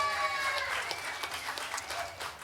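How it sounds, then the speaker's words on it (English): A comedy show audience at Tap Yard in Tulare, California applauds for an audience member named Marie, steady close clapping with a few sharper claps. "Everyone clap it up for Marie,"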